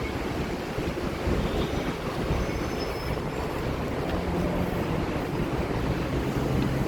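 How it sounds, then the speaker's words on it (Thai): A Bangkok elevated skytrain rumbles along continuously with a dense, steady roar and faint metallic squeals from the wheels, fairly loud and close. "รถไฟฟ้าสายแรกของกรุงของประเทศไทย"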